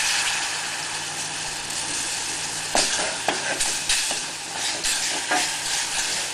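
Moussaka béchamel is stirred with a wooden spoon in a hot pan as milk is added a little at a time. A continuous bubbling sizzle runs under repeated scraping strokes that grow more pronounced midway, with no talking.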